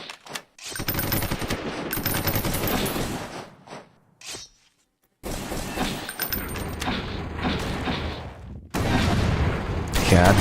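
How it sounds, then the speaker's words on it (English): Mortar and artillery fire in the Roblox combat game Noobs in Combat: bursts of dense, loud blasts and rapid gunfire in several long stretches, broken by short quiet gaps. "And he's got artillery. It's a mortar."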